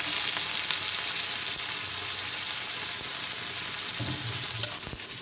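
Oil with green chillies and tomatoes sizzles steadily in a pan for spinach bhaji, a dense, continuous frying hiss with a brief stirring scrape near the end and no talk.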